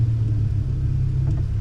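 An Acura Integra sits idling in drive, its engine giving a steady, close low rumble with a faint hum that holds throughout and no revving.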